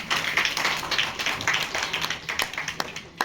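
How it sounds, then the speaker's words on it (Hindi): Audience applause at a Hindi book launch and discussion event: a steady patter of many hands clapping together, fairly close, for a few seconds with no talk over it. "तो इसके लिए एक बार तालियां तो बननी चाहिए।"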